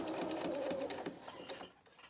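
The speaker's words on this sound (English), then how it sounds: "And I'm going to sew right across to the hem, but I'm not going to reverse again." A sewing machine stitches steadily across a doll-sized skirt toward the hem, a close, continuous motor whir that slows and fades out near the end.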